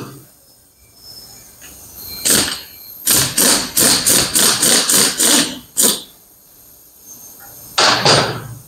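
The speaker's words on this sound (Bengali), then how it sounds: "এই হচ্ছে মেশিন দিয়ে কাজের মজা, ফটাফট খুলে যায়, কোনো ধরনের বাড়তি চাপ চুপ দেওয়া লাগে না।" A power tool on a Yamaha MT 15 motorcycle fires in loud, rapid rattling bursts as it loosens bolts, a few short hits followed by a fast chattering run, close and harsh.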